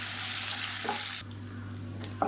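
Garlic, urad dal and dried red chillies sizzle in hot oil in a pan for tomato chutney, a dense close frying hiss that suddenly drops to a softer crackle partway through, with a faint stirring clink near the end.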